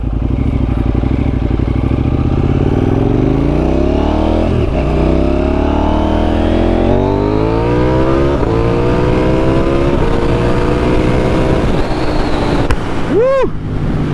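A KTM Duke 890R motorcycle roars close by during wheelie practice, its engine climbing steadily through rising revs with gear changes and a strong steady drone, wind buffeting throughout.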